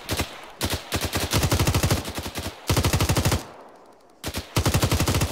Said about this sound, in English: the machine gunner here is firing the living shit out of them